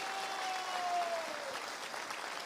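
An audience claps loudly and continuously for Shiv Kumar at an event, a dense steady burst of applause.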